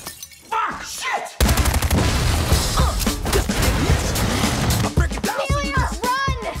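Gunshots in an action film trailer, a sudden loud blast followed by a dense burst of shots, crashes and shattering. Music plays and voices shout in the closing moments.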